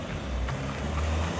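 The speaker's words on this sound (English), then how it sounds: "So now we're about to get on gravel, straight from a tarred road onto the gravel." A 2023 Ford Everest rolls from a tarred road onto gravel, giving a brief, steady, loud rumble of tyre and road noise mixed with wind.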